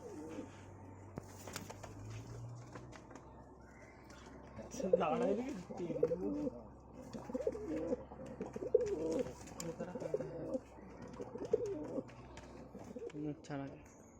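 Andhra breed pigeons offered for sale coo repeatedly in soft, rolling, throaty phrases close by, with a person talking over them.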